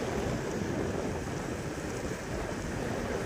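Strong wind roars steadily across the microphone on the Kolli Hills, a loud, continuous broadband rush with no voices and no letup.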